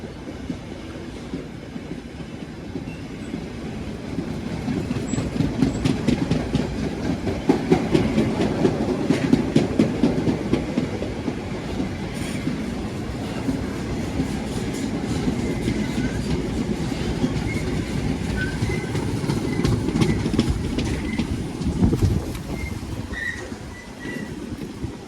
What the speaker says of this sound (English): We've got another freight here by Brickhill.